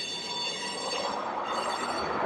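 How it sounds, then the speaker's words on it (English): A loud, continuous rumble and grinding roar of a train passing close by, with metallic screeching high tones layered over it throughout. "I wanna say this train's derailing very slowly or something because it is making way too much noise"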